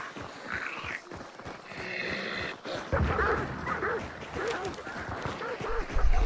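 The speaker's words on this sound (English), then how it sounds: "Dogs, dogs." Dogs bark, yip and whimper in the kennel area of the video game Hunt: Showdown, a run of repeated barks at mid distance with a player talking over parts of it.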